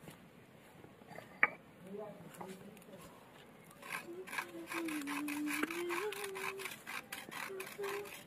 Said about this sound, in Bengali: দিয়ে এবার ভালো করে মেখে নেব।